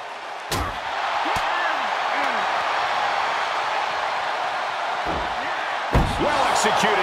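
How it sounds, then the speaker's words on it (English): Wrestling video game match, ambulance match setting: a sharp impact slam as a wrestler is suplexed, followed later by another thud, over continuous crowd noise and commentary talk. "Well-executed suplex."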